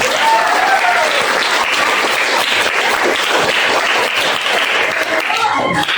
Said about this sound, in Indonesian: Tepuk tangan ibu kita semua